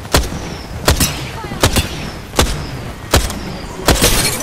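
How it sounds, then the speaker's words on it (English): Knuckle cluster firing in Apex Legends, six sharp loud bangs spaced about three quarters of a second apart, each trailing a short crackle, over faint background noise. "Stand back, knuckle cluster's firing."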